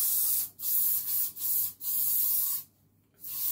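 Shockwaves hair lacquer sprays out in several close, loud hissing bursts, separated by short pauses and ending after a longer gap, with no talking.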